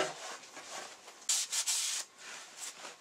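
Rubbing and scrubbing on an old electric heating element from a Truma camper water heater, quiet short scraping strokes with a few louder bursts in the middle.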